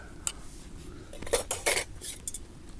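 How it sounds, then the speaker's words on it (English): A spork clinks against metal camping cookware such as a small saucepan: a handful of light, bright metallic taps and scrapes, close and fairly quiet, in an irregular rhythm. "Got my spork."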